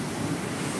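Water roaring steadily through the Sucen dam in Salatiga, a dense, continuous rushing wash heard close and loud with no voices.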